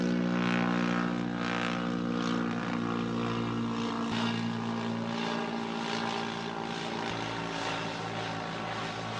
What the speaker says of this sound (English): there's a helicopter circling over my house about 15 times with some pretty funky lights